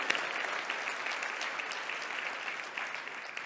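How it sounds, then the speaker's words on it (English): Audience applause at an inspirational talk, a dense steady clapping that fills the whole stretch at an even level, with no voices on top. "you give yourself a round of applause on that one"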